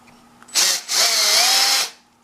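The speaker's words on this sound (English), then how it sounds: "I just drilled a hole through the end where my bolt is gonna go." A power drill bores a hole through the end of an electric toothbrush in two close bursts, a short whine followed by a longer steady whir, loud and near, with no talk.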